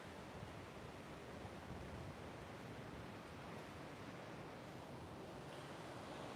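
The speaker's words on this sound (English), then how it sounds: "Feel that ocean breeze" Ocean surf and breeze on a Pacific beach make a steady, even wash of broadband noise with no distinct wave breaks, quiet and continuous, with no voices.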